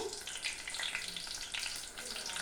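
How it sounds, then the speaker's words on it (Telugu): Eggplants dropped into very hot oil fry with a steady, dense sizzle and crackle. The sound is close and continuous, with no one speaking. "హీట్ ఎక్కిపోయిందండి బాగా. కాయలు ఆయిల్లో వేసేసుకుందాం."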